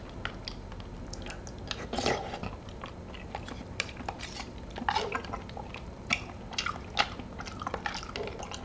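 Close, quiet chewing of Beefaroni topped with red pepper flakes and vegan cheese, with wet smacking bites and small clicks recurring every second or so and no talking.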